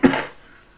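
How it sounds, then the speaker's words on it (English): A single sharp cough, close and fairly loud, fading quickly into quiet room tone. "Now I cough, right?"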